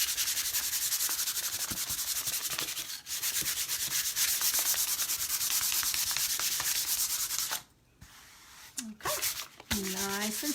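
Wax paper rubbed briskly over dry paint to smooth it, a close, steady scratchy rasping that runs almost continuously, drops out briefly near the end, then resumes with a voice breaking in over it.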